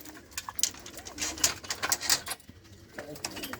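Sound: pigeons cooing

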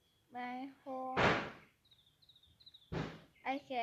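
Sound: door closing and locking in Roblox video game Brookhaven

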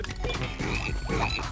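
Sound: frogs croaking in the video game Battleblock Theater

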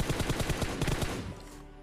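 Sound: gunfire in a video game

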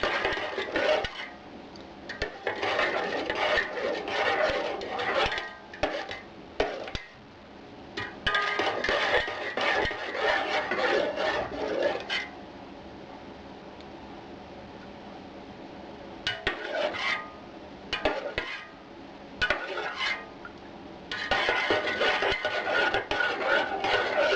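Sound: stirring birch sap kvass in a pot

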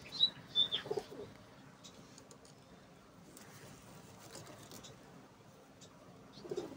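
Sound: pigeon cooing

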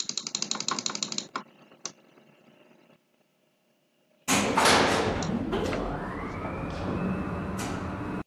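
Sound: Otis Series 3 lift door closing

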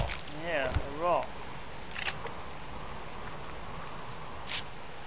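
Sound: rain falling in the survival video game Subsistence

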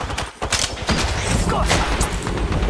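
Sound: gunfire in Apex Legends video game

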